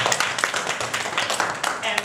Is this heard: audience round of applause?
yes